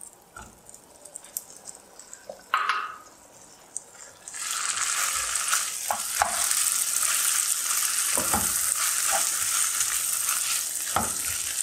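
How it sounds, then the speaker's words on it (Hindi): Chicken pieces dropped into melted butter in a pan for a white sauce pasta; quiet clinks at first, then a sudden loud, steady sizzle and crackle that continues with occasional utensil knocks. "बटर को मेल्ट करेंगे, साथ ही इसमें चिकन डाल देंगे।"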